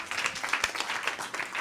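Seminar audience at a sales training event claps in a brief, steady patter of applause at moderate distance, with no speech over it.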